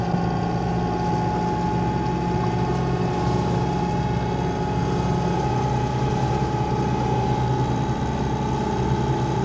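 Twin engines of a Lagoon 450 sailing catamaran run at cruising revs of about 2000 rpm, a loud, steady, unchanging mechanical hum and drone that fills the whole stretch without pause.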